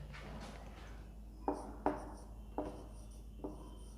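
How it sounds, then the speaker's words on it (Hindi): Pen or marker writing chemistry notes on paper or a board, several sharp stroke ticks in an uneven rhythm over a low constant hum, close and moderately quiet, with no talking. "उनको लिख लेता हूँ यहाँ पर।"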